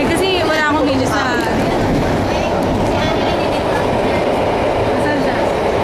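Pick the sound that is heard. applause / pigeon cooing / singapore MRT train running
singapore MRT train running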